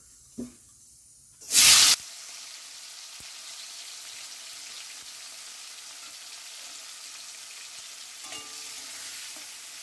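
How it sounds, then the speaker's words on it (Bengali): Fish frying in hot mustard oil for an echor chingri recipe: a short bump and a loud hissing splash as the fish goes in, then a steady, softer sizzle that continues alone to the end. "তেল গরম হয়ে গেছে, এবার মাছগুলো ভেজে নেব"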